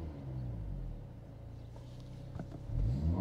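A 2023 Mercedes-AMG SL43 four-cylinder engine under launch control holds a low, subdued rumble, then swells into a louder surge at the end.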